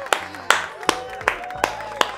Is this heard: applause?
yes